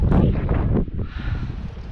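Strong wind on open water roars and buffets the microphone in heavy, rumbling gusts of around 60 mph that ease slightly partway through, with no voices.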